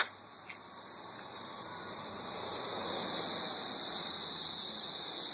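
Periodical 13-year cicadas in Tennessee drone in a dense, continuous high-pitched chorus that swells slightly louder over the seconds, steady and unbroken with no voices.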